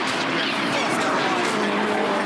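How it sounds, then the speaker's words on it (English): Touring car sliding through turn 2 at a Touring Car Masters race at Winton, 2017: loud, continuous engine roar mixed with broadband tyre noise, dense and unbroken throughout. "Now he turns in for turn 2. Watch the car slide."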